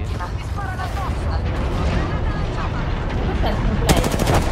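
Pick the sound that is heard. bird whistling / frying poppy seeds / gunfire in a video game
gunfire in a video game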